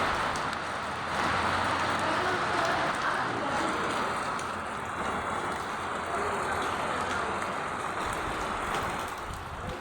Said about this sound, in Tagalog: naririnig nyo ba yan guys, yung malakas na pagbuhos ng ulan